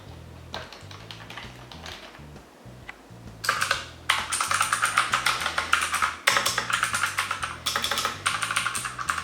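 Typing on a Redragon K553 mechanical gaming keyboard, compared with a quieter low-profile keyboard: sparse, soft keystrokes at first, then a fast, loud, clattering burst of clicky keypresses up close.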